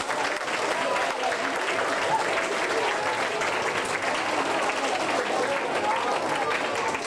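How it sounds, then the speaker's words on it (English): An elementary school audience at an honor roll assembly applauds its third grade representatives with steady, dense clapping that holds at an even level throughout, a few voices mixed into the crowd. "Let's give them a round of applause."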